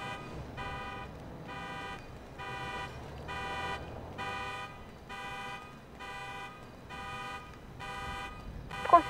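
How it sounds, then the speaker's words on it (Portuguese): A car horn in a video game honking in regular repeated blasts, about ten evenly spaced tonal toots at moderate loudness, with a brief sharper sound at the very end. "Pera, o carro buzinando tá em frente a essa casa aqui."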